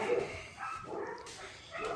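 Dogs bark nearby in a few short muffled bursts, quieter than the room around them, with no talking.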